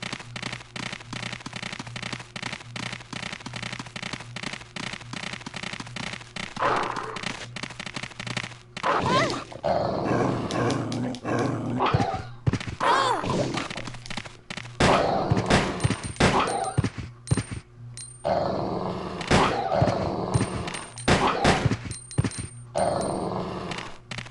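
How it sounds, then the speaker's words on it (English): Gunfire and snarling zombie dogs in the survival horror game Resident Evil: Code Veronica X, with bursts of shots and growls over a steady low game hum, fairly loud throughout. "Tired of the poor puppies. How do you even get by to stop to shoot them?"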